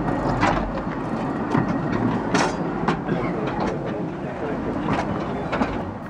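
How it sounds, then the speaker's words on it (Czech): A small steam train on the Laxey mine railway, Isle of Man, rolls in with rhythmic clickety-clack of wheels on track and intermittent hissing bursts, moderately loud and close. "Příjezd parního vláčku."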